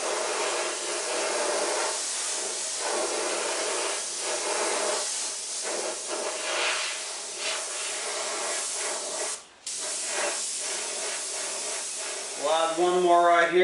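White paint hisses from an airbrush onto a fender in a long, close, continuous spray, with one brief pause near the end before a voice starts talking over the hiss.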